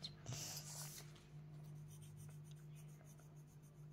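A colored pencil rubs across paper close up, with soft continuous scratchy strokes and a slightly louder burst at the start, no talking.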